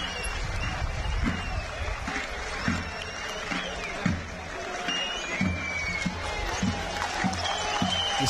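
A crowd at a traditional Turkish oil wrestling tournament, the Ordulu Mustafa Pehlivan event, applauding a wrestler with steady, rhythmic beats under a diffuse murmur of the outdoor audience, moderately distant.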